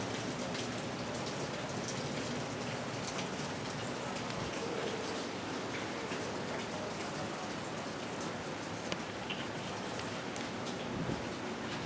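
Steady rain falls throughout, a dense continuous patter of drops on surfaces with no breaks, moderately loud and close, with no voices.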